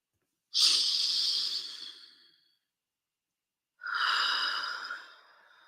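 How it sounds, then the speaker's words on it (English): Two long audible breaths in a quiet room, a slow inhale-exhale followed after a pause by a second airy breath, close and soft, taken during an Emotional Freedom Technique tapping exercise. "Okay, deep breath."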